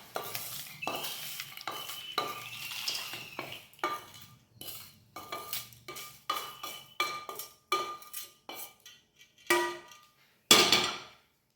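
A spoon stirs and mixes ingredients with tempered mustard seeds in a metal pan, giving loud, close, repeated scraping strokes in uneven bursts with short pauses between them and a faint sizzle underneath.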